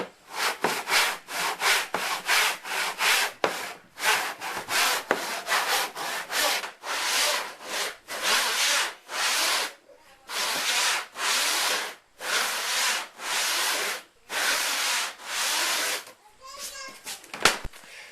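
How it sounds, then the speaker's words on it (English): A handsaw cuts a long run of grooves into a sheet of plywood by hand, rasping in rapid back-and-forth bursts with brief pauses between cuts; a voice is briefly heard nearby. "I'm willing to cut 40 grooves in a piece of plywood by hand"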